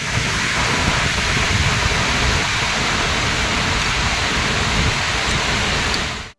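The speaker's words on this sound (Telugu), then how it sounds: "ఉమ్మడి కరీంనగర్ జిల్లాలో వర్షాలు దంచి కొడుతున్నాయి" Heavy monsoon rain pouring down in the Karimnagar district of the Telugu states, a dense, constant hiss of falling water that holds at an even, loud level before cutting off abruptly at the end.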